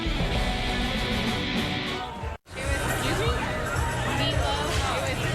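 A crowd gathers around the barricades at a cycling stage finish in Santa Cruz during the 2009 Tour of California, a steady, close babble of many overlapping voices, briefly cut to silence midway.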